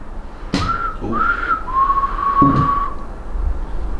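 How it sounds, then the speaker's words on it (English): A person whistles a few short, clear notes, the last one held a bit longer, close by in a quiet room. "If I whistle, can you whistle back?"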